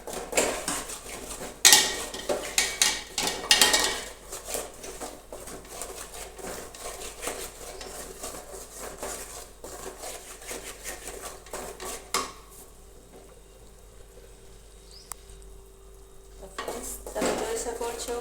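A utensil scrapes and stirs rajgira flour roasting in plenty of ghee in a pan, with steady clinks and scraping against the metal and a faint sizzle underneath, louder early on and quieter toward the end.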